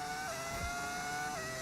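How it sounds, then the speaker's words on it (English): A Formula 1 race car engine in the F1 25 game drones steadily at a fairly low level, its pitch dipping and shifting twice as the car changes speed, with no voices over it. "You guys let me know if that engine sound is way too quiet"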